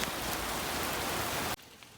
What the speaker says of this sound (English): it is pouring down rain